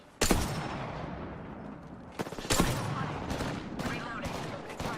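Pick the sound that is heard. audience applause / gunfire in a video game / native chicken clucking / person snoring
gunfire in a video game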